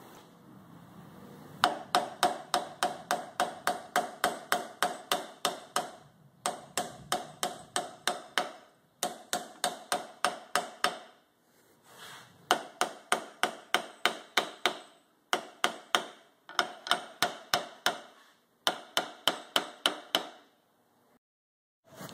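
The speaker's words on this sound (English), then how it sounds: "we'll hammer this guy down to close the shock back up" Steady bursts of sharp metallic hammer blows close the lip of a Bilstein 7100 monotube shock absorber, striking in quick regular runs separated by short pauses, loud and close with no talking.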